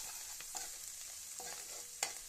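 Fenugreek leaves fry in a pan for methi chicken curry, a soft continuous sizzle broken by a few light stirring scrapes, with no talking.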